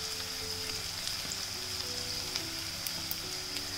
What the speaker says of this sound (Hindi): इस तरह सारी अरबियों को तल के निकाल लेना है हमें।